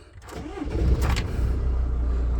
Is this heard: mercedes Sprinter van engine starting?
yes